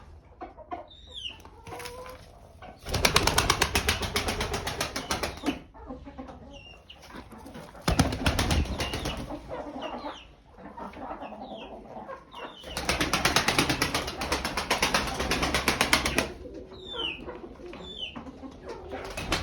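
Inside a chicken coop, birds flap noisily down in several loud bursts of wingbeats, with clucking and bird calls between them and faint sounds of movement around.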